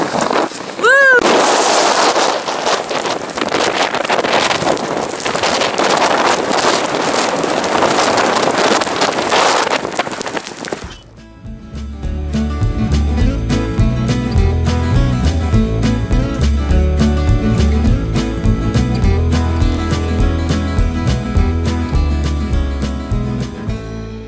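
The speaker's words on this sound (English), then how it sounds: "It is super windy." Strong wind in Scotland buffets the microphone in heavy, roaring gusts, then shifts to a choppier, rumbling blast that continues to the end.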